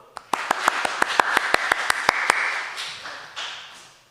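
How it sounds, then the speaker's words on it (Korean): Short burst of sharp claps from a church congregation, starting as a few distinct hand-claps that blur into a brief spatter before fading out over a few seconds. "박수!"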